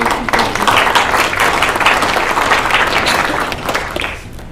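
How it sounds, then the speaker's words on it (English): Applause at a school board meeting: a room of people claps steadily for several seconds, then the clapping thins out and fades. "We can give them a round of applause for their dedication."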